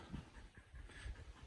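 A dog at a trail shelter pants steadily in rapid, breathy rhythm close by, with soft outdoor background noise.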